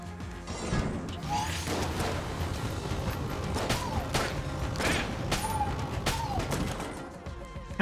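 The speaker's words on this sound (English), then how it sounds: "I think I'll just stick with the science cannon." Science cannon firing in the video game Enter the Gungeon, a dense run of repeated sharp blasts and crashes with short whooping tonal chirps, layered over busy game effects and background music at moderate level.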